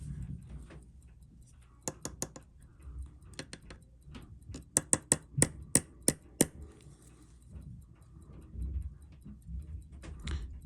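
Light metallic taps from a small hammer on metal, scattered at first, then a quick run of about eight sharp strikes close by, with quiet gaps and no talking.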